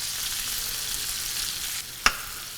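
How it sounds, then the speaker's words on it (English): Peppers sauté in a hot pan with a steady, even sizzle that drops slightly near the end, then a single sharp clink of a utensil against the pan; no one talks. "I'll saute that up."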